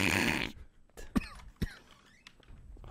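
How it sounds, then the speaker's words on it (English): In a video game, after a loud burst of noise, a few short, rough ghost coughs sound out, echoey and somewhat distant, with quiet gaps between them. "Is that a ghost cough?"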